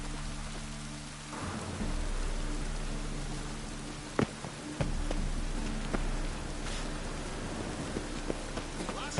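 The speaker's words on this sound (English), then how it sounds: "rain again. Damn mages." Steady rain and rumbling thunder in the video game Witcher 3, a continuous downpour with a few sharp thunder cracks partway through, with no speech.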